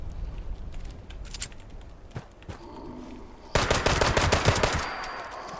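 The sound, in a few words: pistol gunfire in the video game Fallout 76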